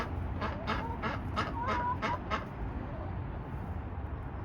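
Geese in a home yard give a quick run of about seven honking calls, fairly close and moderately loud, then go quiet over a steady outdoor background.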